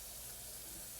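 Raw chicken being rinsed under a running kitchen tap, a soft, steady stream of water splashing, faint and continuous for about a second, without talking.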